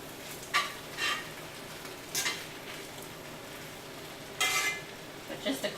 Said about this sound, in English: But just a quick little saute.